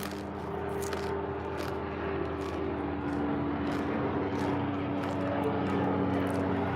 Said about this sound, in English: Let me see it. It's a helicopter.